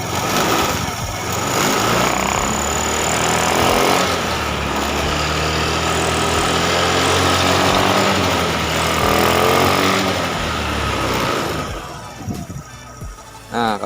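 Honda Beat FI scooter engine revved on the stand, a loud, close, buzzing drone that rises and holds for about ten seconds before dropping away, with a faint voice at the end.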